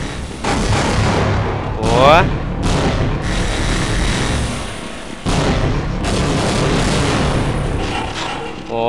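Grenade explosions in the Half-Life mod The Trap, heavy booming blasts with crackling debris filling most of the stretch, one brief voice exclamation over the din.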